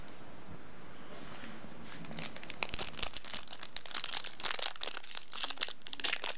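A crinkly plastic trading card pack wrapper being torn open by hand and crumpled up close, a quiet rustle building into busy crackling and ripping.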